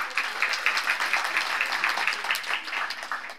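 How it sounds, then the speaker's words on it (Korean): An audience at a media festival opening ceremony applauds, a small group clapping in a quick, even rhythm at moderate distance with no voices over it. "여러분 다시 한번 뜨거운 박수 부탁드릴게요."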